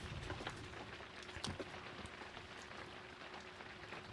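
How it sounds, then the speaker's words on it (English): Steady rain falls on an ice-camping setup on a frozen lake, a continuous soft hiss of drops pattering on a surface with a few louder taps, moderately faint and unbroken. "It is still raining."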